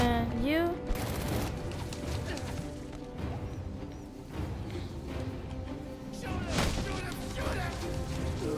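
Gunfire in Batman Arkham Origins, with dense, crashing volleys of shots and impacts filling the scene, loud and continuous, with voices calling out over the din.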